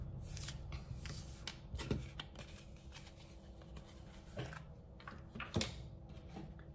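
Tarot cards being shuffled by hand before a love reading, a steady soft papery riffling with a few sharper snaps and slaps of the deck, close and fairly quiet.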